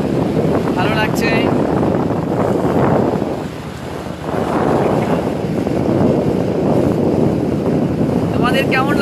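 A boat cruises across open haor water, heavy wind buffeting the microphone in a constant loud rush with a brief lull midway, faint voices mixed into the roar.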